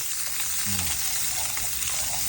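Sardines fry in hot cooking oil in a pan, giving a dense, constant close sizzle with a faint brief clink partway through and no talking.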